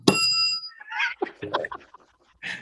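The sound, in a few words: bell being rung at the studio desk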